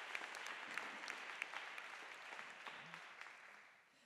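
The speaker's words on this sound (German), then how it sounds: "Also Applaus für Frau Dr. Tschirner und Frau Schönfeld." An audience claps at an evening panel talk about women in leadership. The applause is steady and dense and fades out toward the end.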